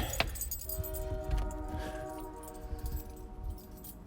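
A bunch of assorted keys rattles and clinks nearby in the snowy outdoors, with a quick jingle early on, a sustained ringing metallic tone in the middle and scattered light chinks afterward over a low rumble.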